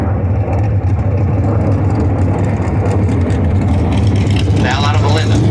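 A dragster roars down the strip at Spring Fling drag races in Las Vegas, a loud, steady low engine rumble that fills the whole stretch, with voices blended into the din.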